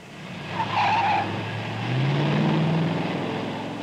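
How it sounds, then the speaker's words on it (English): An all-new Oldsmobile Jetstar 88 with a Jetfire Rocket V8 skids hard on a test run at the GM Proving Ground, giving loud, sustained tire squeal and engine roar that rises again midway, with no voices. "this is a rocket action run. With the all-new Jetstar 88 by Oldsmobile"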